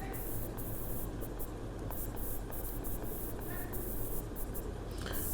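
A pen writes on paper in scratchy bursts of strokes, close and fairly quiet, over a steady background hiss with no talk.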